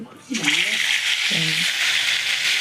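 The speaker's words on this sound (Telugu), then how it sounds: "అంత తర్వాత కొంచెం మసాలా వేసి నూనెలో ఫ్రై చేసి" Masala-coated Andhra-style fish frying in hot oil, a loud continuous sizzle that starts abruptly and holds steady, with a brief voice heard twice early on.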